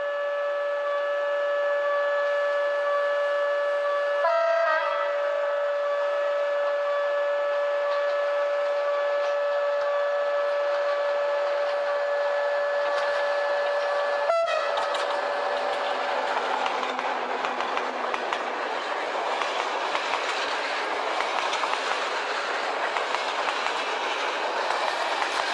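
Train rolling past a railway level crossing in Romania, a steady rumbling roar with a sustained warning tone early on and rising clatter of wagons, close and continuous.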